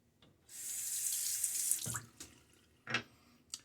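Water running from a tap while a razor is rinsed in the sink, a close steady rush that stops after a couple of seconds, followed by a few splashes and taps.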